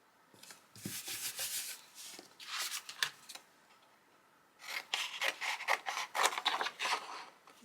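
Scissors scrape and rasp along the edges of old paper envelopes in two close bursts of quick, scratchy strokes, separated by a short quiet pause.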